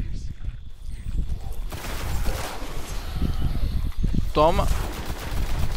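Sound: gunfire in the video game Destiny

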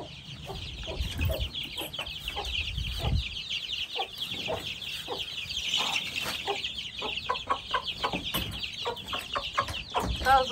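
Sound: chickens clucking on a farm

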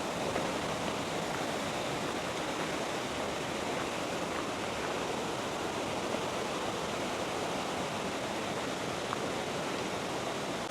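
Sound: waterfall

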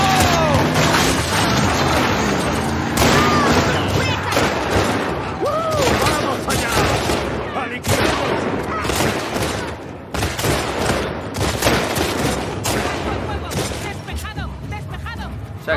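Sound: gunfire shootout in The Last of Us Part 2 video game

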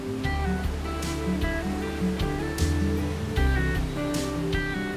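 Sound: waterfall, water rushing down

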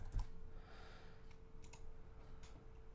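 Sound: typing an email address on a computer keyboard

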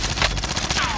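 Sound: gunfire in Call of Duty: Warzone video game

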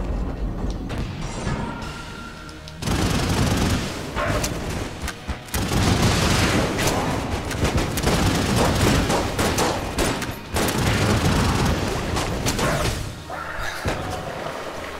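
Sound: gunfire in video game Enter the Gungeon boss fight

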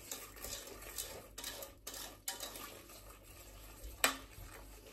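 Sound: stirring corn flour and sugar into a smooth paste

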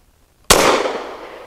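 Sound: Caracal Enhanced F pistol firing 147 grain HST rounds

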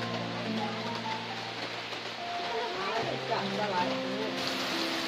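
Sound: heavy rain

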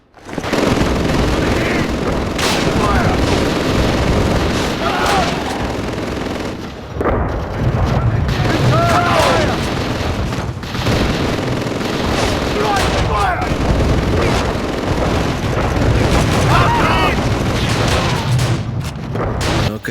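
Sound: machine gun fire in the video game Call of Duty: Roads to Victory

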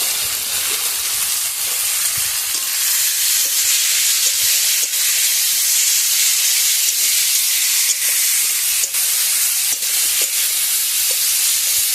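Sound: rohu fish with drumsticks, salt and turmeric frying in pan

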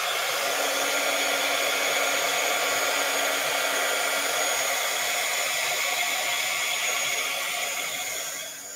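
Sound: hair dryer drying watercolor paint

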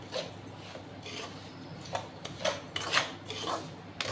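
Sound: semolina (rava) being fried and stirred in a pan

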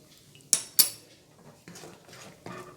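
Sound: spoon stirring spinach soup in a pot

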